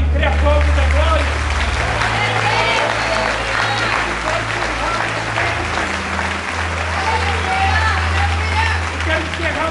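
A church congregation at a missions congress applauds steadily and fairly loudly, with a dense wash of clapping and some voices, sustained without a break from start to finish.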